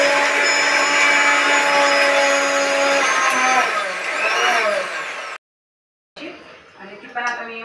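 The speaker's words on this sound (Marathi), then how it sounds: "आता ही मिक्सरला मी बारीक करून घेते" A kitchen mixer grinder whirs as it powders dry ginger, sugar, nutmeg and fennel seeds, a loud motor whine running for about five seconds, cutting out, then briefly restarting with rattling.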